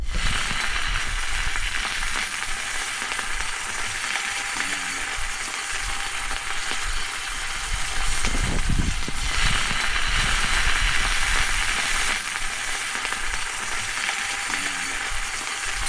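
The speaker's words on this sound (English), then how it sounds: "bacon and eggs is on the menu this morning" Bacon and eggs sizzle and crackle steadily in a greasy pan, a continuous close frying hiss with a brief louder burst of spattering midway, no talk over it.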